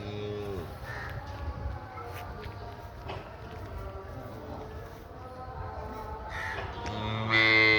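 Cows and young calves lowing and mooing on a farm, with several drawn-out calls scattered through the clip, ending in a louder one. Faint shuffling and movement sit underneath.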